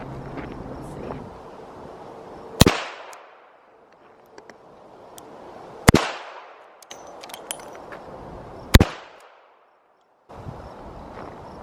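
A .38 snub-nosed revolver fired at target practice outdoors, three sharp loud gunshots about three seconds apart, each followed by a short echoing decay, with light wind noise and faint handling sounds between.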